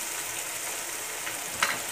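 Cabbage kofta curry with salt and red chilli frying in a pan, a soft continuous sizzle at low level with one brief stir or clink near the end.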